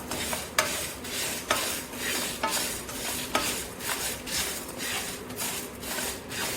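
Spices and raw rice dry roasting in a pan without oil for mutton kuzhambu masala, with repeated scraping strokes of stirring over a faint, continuous rustle.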